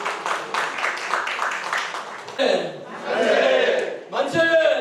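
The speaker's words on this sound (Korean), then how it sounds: "큰 박수로 축하드리겠습니다." A crowd at a forum event honoring President Syngman Rhee cheers and shouts together, with applause swelling in bursts and continuing loudly through the moment.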